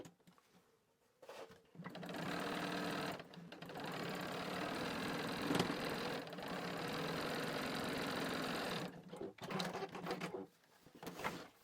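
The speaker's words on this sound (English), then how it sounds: "Then sew in place again with that same 1/4 inch seam allowance." A sewing machine runs steadily stitching a quarter-inch seam through fabric placemat pieces, a continuous mechanical whir with a rhythmic needle clatter lasting several seconds, stopping briefly near the end before a short restart.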